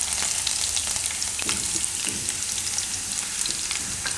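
Garlic and curry leaves frying in hot oil give a close, continuous, crackling sizzle with occasional stirring, and no voices over it.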